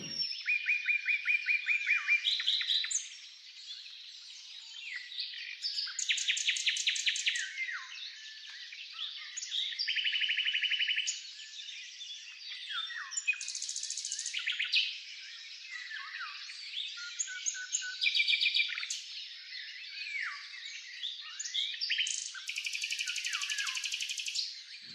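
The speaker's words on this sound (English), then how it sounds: "Listen to the songbirds." Several songbirds sing continuously, overlapping chirps, whistles and rapid trills, bright and clear with no voices.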